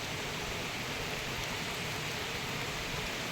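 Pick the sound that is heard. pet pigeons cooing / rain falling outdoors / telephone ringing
rain falling outdoors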